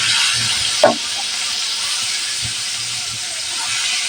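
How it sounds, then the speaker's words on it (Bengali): Rohu fish pieces coated in turmeric and chili fry in hot oil, producing a loud, continuous sizzling hiss with a brief clatter near the start, close up and without speech. "তেলটা গরম হয়ে গেছে এখন আমি মাছ দিয়ে দিব"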